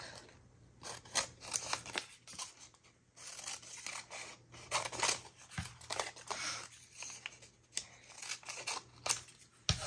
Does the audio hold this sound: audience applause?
no